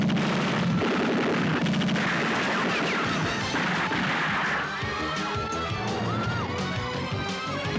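Heavy gunfire fills a Filipino action movie scene, rapid shots and blasts crackling over a dense, chaotic mix, with shouting voices partly under the noise.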